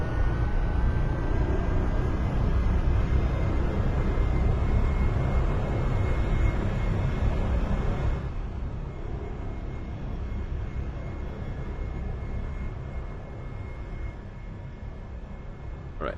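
Steady loud aircraft engine roar in the X-Plane 11 flight simulator, a broad constant drone that drops to a slightly lower level partway through, with no talk over it.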